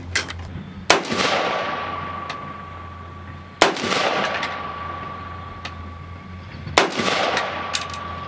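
Rifle shots fired at an outdoor range with Fiocchi ammunition, three loud sharp reports spaced about three seconds apart, each trailing off with echo over a steady background hum.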